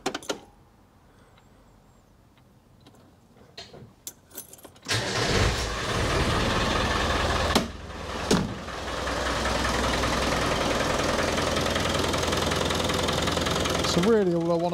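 A 1994 Land Rover Defender 2.5 Tdi diesel sits quiet with a few small clicks, then cranks, fires and settles into a loud, steady clattering idle close by, with a brief dip partway through.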